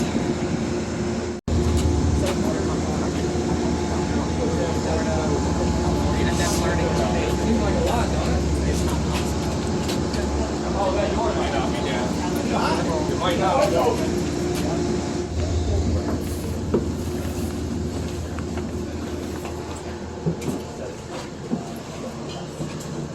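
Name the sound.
passenger train at station, boarding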